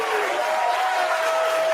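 Steady dense clapping from a crowd, a continuous wash of hands without gaps, with a faint tonal hum running underneath.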